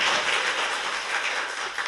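An audience claps in a dense, loud burst of applause for a guest on a Korean talk show, filling the short moment without any voices.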